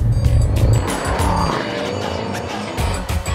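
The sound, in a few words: Mercedes-AMG S 63 4Matic+ limousine driving off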